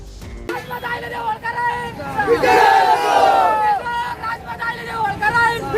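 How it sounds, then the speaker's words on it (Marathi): Supporters celebrate a candidate's election victory in Nandgaon with a loud crowd roar, voices shouting and cheering together in a dense, swelling mass of sound that peaks midway and stays lively throughout. "त्यांच्या समर्थकांकडून एकच जल्लोष करण्यात आलाय"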